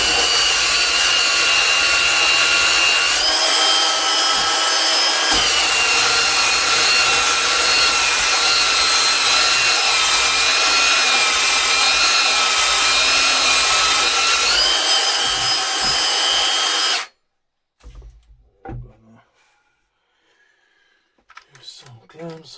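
A Milwaukee FBTS75 table saw cuts a wooden cutting board with gold inlay, its motor whining loud and close for about seventeen seconds with slight shifts in pitch under load, then stopping abruptly and leaving quiet with faint handling noises.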